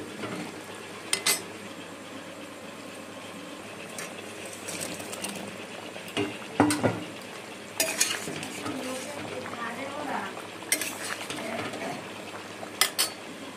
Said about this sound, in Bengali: এবারে এর মধ্যে আমি ভেজে রাখা পনিরগুলো দিয়ে দেবো